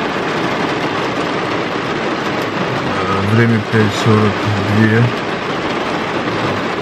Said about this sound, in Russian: Хуячит ливень.